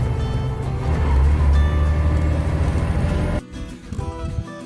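Loaded corn truck hauling grain to an ethanol plant, a loud steady engine drone with heavy low rumble heard from the cab, shifting to a lighter, rougher tone near the end.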